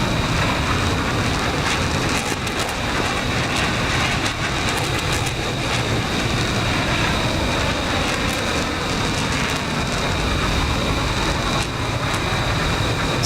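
An F-16 fighter jet in the DCS flight simulator roars past as a loud, steady broadband rush of engine and wind noise, unbroken throughout and with no talk.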